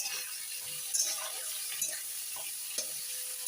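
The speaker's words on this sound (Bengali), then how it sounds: "এবারে ভাজা ভাজা হোক, তারপরে ডিম দেব" Onion, tomato, green chili and chopped garlic frying in a pan for an egg tadka, a steady soft sizzle broken by several scraping stirs of a spatula, close up with no talk.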